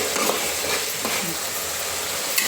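Cooked-down tomato masala for Punjabi rajma is stirred in a pan, giving a soft, steady scraping and gentle sizzle with a couple of faint utensil taps; no one speaks.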